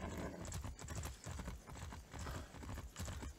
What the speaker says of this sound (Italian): con sto cavallo in giro per Cuba